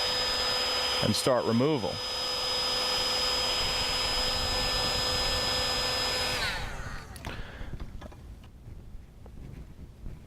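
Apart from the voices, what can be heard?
heat gun on medium heat warming a decal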